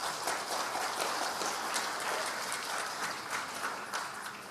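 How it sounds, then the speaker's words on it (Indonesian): Fairly faint, steady applause from an audience at a business association forum questioning a presidential candidate, a continuous patter of clapping with no speech on top. "Nggak usah tepuk tangan,"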